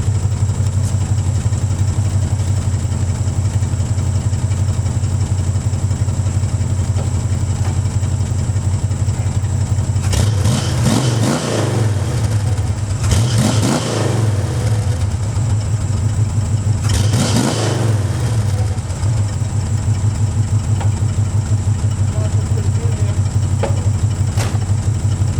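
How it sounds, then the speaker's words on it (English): A 1971 Mustang Mach 1 idles with a steady low rumble from close by the exhaust, running a little rich, then blips through three sharp throttle revs before settling back to idle, with no one talking. "I'm gonna park the camera right here and give her a good rev because it sounds better."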